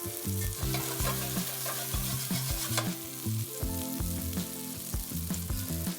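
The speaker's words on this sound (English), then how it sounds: "So we're gonna keep moving these guys around. And we're gonna cook on all sides." Greek chicken meatballs fry in olive oil in a pan, crackling and sizzling steadily at close range while they are moved and turned, with no one talking.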